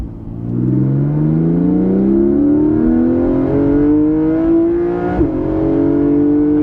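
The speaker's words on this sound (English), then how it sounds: "So I get induction noise, and then of course you have the normal exhaust, which sounds great." A Porsche Cayman GTS 4.0 engine revs up steadily, its exhaust note rising in pitch with a deep intake growl, loud and close, then briefly dipping before climbing again.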